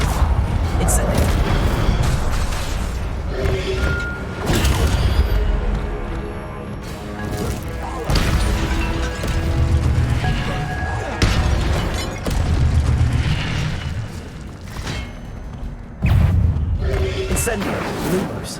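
Incendio fire spell casts in the Hogwarts Legacy game: repeated loud whooshing bursts and booming fiery impacts every few seconds, dense and close, with game action noise throughout.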